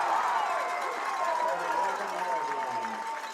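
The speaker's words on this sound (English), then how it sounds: "That may be the biggest cheer I've heard all night." A crowd roars and cheers in the stands at a high school football playoff game after an open field tackle, a broad sustained wash of noise under announcers talking over it, slowly fading.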